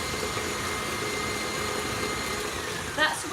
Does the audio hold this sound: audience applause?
no